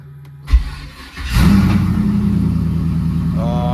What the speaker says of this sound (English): So let's get this car started now.